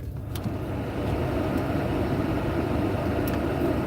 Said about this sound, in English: All this is blowing hot air.